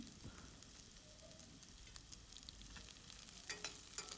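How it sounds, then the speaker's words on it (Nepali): Potatoes fry quietly in a pan while a Nepali-style sukuti barela curry is being cooked, making a soft, continuous sizzle with a few faint crackles and no voices. "आलु पनि एकछिन हामीले फ्राई गर्छौँ"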